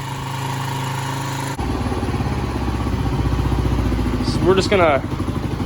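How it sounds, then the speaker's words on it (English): A Kawasaki KLR 250 motorcycle engine idles steadily after an oil change, a low, even chugging that holds throughout, with someone talking over it and a brief mechanical clatter near the end. "let her idle here."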